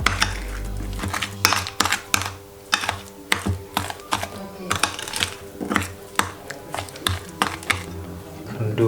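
A utensil scrapes and taps rhythmically against a bowl while margarine and sugar are mixed for cake batter, producing a close series of quick clacks.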